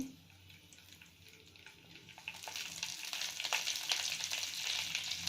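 Urad dal and chana dal frying in oil for curd rice tempering, a quiet background that swells into a steady, close crackling sizzle after a couple of seconds.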